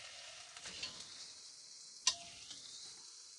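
Oxtail pieces go back into a hot pot and set off a steady, close sizzle, with one sharp clink partway through and no talk.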